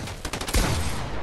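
Pistol gunfire in Fortnite, a quick rattle of several close shots followed by a heavier impact burst, dense and loud throughout the short stretch.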